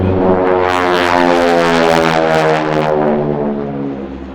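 A loud, steady propeller aircraft roars past at close range over an airshow crowd at Oshkosh, with a rich harmonic engine drone that swells and then begins to fade as it moves away.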